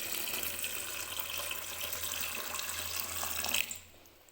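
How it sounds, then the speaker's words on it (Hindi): Water runs in a steady stream into a vessel of churned cream for making homemade butter, a continuous close pouring splash that stops abruptly near the end. "अब यहाँ पे हम इसके अंदर डालेंगे पानी।"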